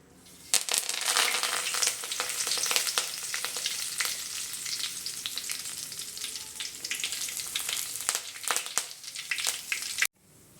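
Curry leaves dropped into hot oil, a loud bright crackling sizzle that starts abruptly and spits steadily with scattered pops, close up, then cuts off near the end, no voices.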